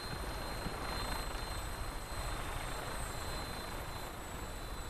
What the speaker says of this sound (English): I hear a vertebird.